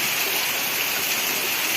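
Steady rain falls in a broad, even hiss with no breaks, close and fairly loud, lasting under two seconds during an outdoor fire pit gathering after a hot day with thunder.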